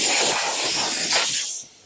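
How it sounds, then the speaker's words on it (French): A steam cleaner hisses steadily as it sprays into a car's interior seats and fabric, a close, continuous jet that eases off and fades out at the end. "L'avantage, c'est que votre vapeur va aller dans tous les recoins."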